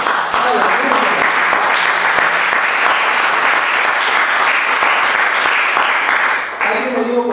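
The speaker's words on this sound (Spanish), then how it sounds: "Denle un aplauso al Señor" A church congregation claps for the Lord during a Spanish-language sermon, loud sustained applause filling the room for several seconds before tapering off near the end.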